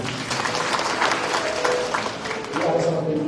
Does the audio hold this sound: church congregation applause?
yes